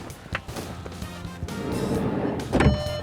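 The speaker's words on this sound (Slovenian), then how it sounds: "drsna vrata so na obeh straneh in čakajte, tole pokažem" The power sliding door of a 2020 Volkswagen Multivan T6.1 2.0 TDI 4MOTION slides along its track with a steady motorised rumble and ends in a solid thud as it shuts, close up and fairly loud, with no talking.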